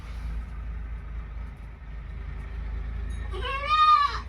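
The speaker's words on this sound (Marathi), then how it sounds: "इथं आहे माझ्या बकऱ्यांचं शेळी आहे." Low rumbling background hum, then a goat bleats once, loud and close, near the end.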